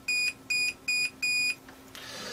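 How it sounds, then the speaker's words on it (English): Four loud, high electronic beeps from a continuity tester buzzer powered by a 9-volt battery, in a steady rhythm, each about a quarter second long, followed by a soft hiss. "So I just incorporated a little continuity buzzer in here"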